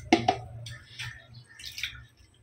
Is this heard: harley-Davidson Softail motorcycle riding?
no